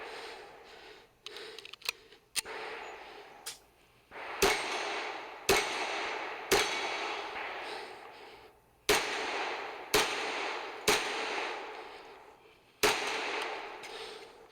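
Sharp gunshots ring out at a competition plate rack, each followed by the metallic ping of steel plates being struck, about a dozen reports in an irregular rhythm over a steady background hum.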